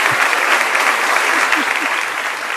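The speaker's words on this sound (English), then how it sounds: "We're gonna clap." Studio audience applauding to welcome comedian Keisa Sharpe onto a talk show, a dense, steady wash of clapping at close range with a few faint voices mixed in, tapering slightly toward the end.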